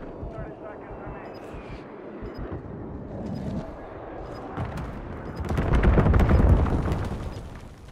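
Bombing-run airstrike in Call of Duty: Modern Warfare 3 multiplayer: a rolling series of heavy booming explosions swelling to a loud peak, over background game noise and faint crackling gunfire, with radio-style voice chatter earlier.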